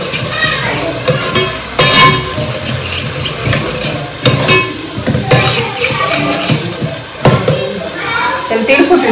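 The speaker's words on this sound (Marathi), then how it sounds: "फुल गॅस करून द्यायचा आणि ना मसाला चांगला परतू द्यायचा." Masala fries in oil over a high flame, a loud, steady sizzle and hiss with intermittent stirring scrapes, while someone talks over it nearby.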